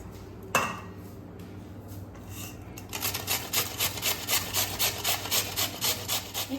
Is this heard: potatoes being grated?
yes